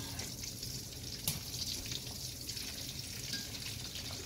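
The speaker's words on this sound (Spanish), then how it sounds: "Nuestro primer paso, vamos a freír nuestros pimientos, que están cortados en dice, en cuadritos grandes" Diced yellow and orange bell peppers, cut into large squares, fry in a pan with a steady close sizzle and crackle that runs continuously, with one brief sharper pop partway through.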